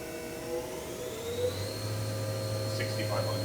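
A Hyundai-WIA vertical machining center spindle spins at 4,000 RPM with a smooth, steady whirring hum. A low tone joins partway through, and faint clinks sound near the end.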